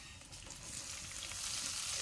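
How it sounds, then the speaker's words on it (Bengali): Chopped small onions going into hot oil with garlic, a dense, loud, continuous sizzle that builds slightly over two seconds, heard close with no voices. "রসুনটা ভালো করে তেলের সাথে ভেজে নিয়ে রসুনের কাঁচা গন্ধটা চলে গেলে এর মধ্যে দিয়ে দেব ছোট করে কেটে রাখা 4টে পেঁয়াজ"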